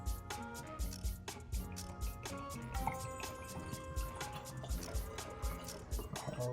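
Coffee-infused whiskey pours steadily through a filter with a soft trickle and scattered drips, heard beneath a continuous layer of background music.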